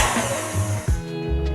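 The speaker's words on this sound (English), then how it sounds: "we're just gonna mix on a medium speed for about a minute" An electric mixer runs at medium speed through cheesecake batter, a continuous whirring motor hum with slight wobbles in pitch, close and steady.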